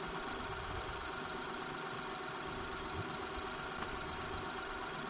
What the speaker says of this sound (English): Engine sounds good, idle is good.